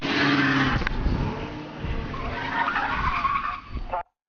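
Car speeding away from a police stop, tires squealing and skidding under a revving engine, loud and near, cutting off abruptly at the end.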